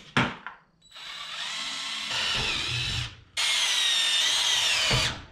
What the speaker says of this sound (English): I'm going to drill a pilot hole first and then all the way up to the half inch wall.